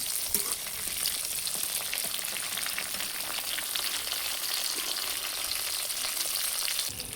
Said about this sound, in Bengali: আমি পটলগুলো ভালো করে একটু নাড়াচাড়া করে ভেজে নেব